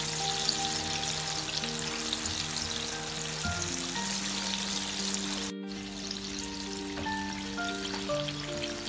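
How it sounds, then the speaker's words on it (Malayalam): Chicken pieces for a chicken starter fry steadily in hot oil on lowered heat, a dense continuous sizzle with crackling pops that breaks off for an instant midway, then resumes alone without talk. "ഈ പീസുകൾ നമ്മൾ ഒന്ന് മറച്ചിട്ട് കൊടുക്കണം രണ്ട് സൈഡും ഒരുപോലെ ഫ്രൈ ആകാൻ വേണ്ടി"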